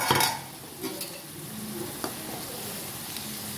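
Bottle gourd cooking in a pan and being stirred, a soft sizzle under a few light spatula scrapes and knocks, close and fairly quiet.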